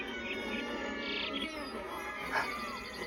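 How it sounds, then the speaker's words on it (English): A sparrow in the 1998 animated film A Bug's Life lets out a few short, bright chirps over a dense, steady film soundtrack background. "Tweet, tweet, tweet, tweet! It's the bird."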